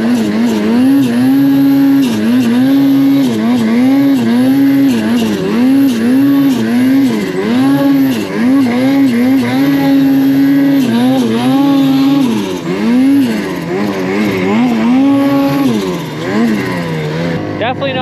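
A rider's Redline Turbo snowmobile churns through deep powder in Revelstoke, its engine droning loud and steady with rising and falling pitch as the throttle shifts, with voices calling out over it.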